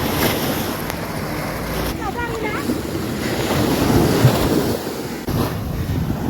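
Sea waves at Kettungal beach during a sardine haul, a steady close wash of surf and wind buffeting the microphone, continuous and fairly loud throughout.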